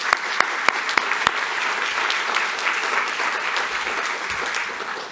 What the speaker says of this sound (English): if you want to join me, I'd like to applaud them.